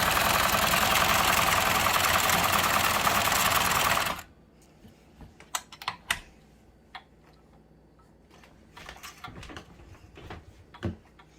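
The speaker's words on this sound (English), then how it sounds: "You can hear that it's got a different sew pattern." A heavy industrial upholstery sewing machine runs loud and steady for about four seconds, then stops, leaving scattered clicks and clunks of handling.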